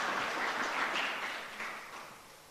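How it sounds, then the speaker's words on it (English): Audience applause at a tourism debate grand final, a burst of clapping that swells then gradually fades over a couple of seconds. "Let's give them a round of applause."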